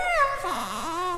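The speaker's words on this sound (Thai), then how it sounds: "ส่งเสียงร้องครวญครางเหมือนเด็กทารก" An animal moans and whimpers like a crying baby in a story sound effect: a wavering, falling then rising wail, close and steady with no talking.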